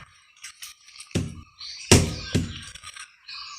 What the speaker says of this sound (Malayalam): ഇത് വേണ്ട, ഇതും കൂടെ ഇടിച്ച് പൊട്ടിക്കട്ടെ.